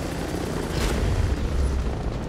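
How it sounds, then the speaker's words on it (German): A helicopter approaches in a first-person shooter video game: a deep, rumbling low drone with a brief whooshing swell partway through, moderately loud and continuous, with no speech. "Da kommt ein Heli."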